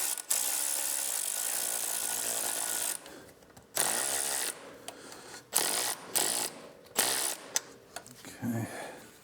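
A ratchet with a 12mm socket tightens the nut on a brake line of a 2024 Triumph motorcycle, giving rapid clicking bursts that start, stop and repeat several times up close.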